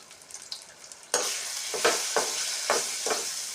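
A pan of pirandai thuvaiyal is stirred, quiet at first, then a sudden loud sizzle with several scraping strokes at a steady pace, close to the listener.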